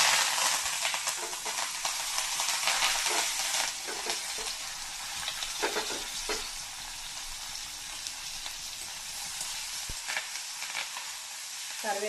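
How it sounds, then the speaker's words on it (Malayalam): Curry leaves fry in hot mustard oil with a loud, dense crackling sizzle, spiky pops and stirring scrapes over it, easing slightly toward the end; no one speaks. "കറിവേപ്പിൻ്റെ ഇലയൊന്ന് ഫ്രൈ ആയിട്ട് വരണം"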